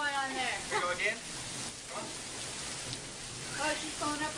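Rain falls in a steady, dense patter, a continuous hiss of drops outdoors, with people talking and laughing over it at intervals.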